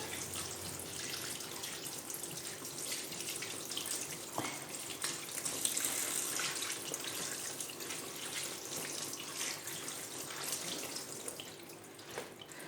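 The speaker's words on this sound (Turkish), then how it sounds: "arkadaşlar yine bunu da soğuk suya tutuyorum" Cold tap water runs steadily over cabbage leaves being rinsed in a sink after blanching, a continuous close splashing hiss with faint shifts as the leaves move under the stream.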